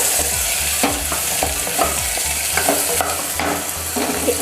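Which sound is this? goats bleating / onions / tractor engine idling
onions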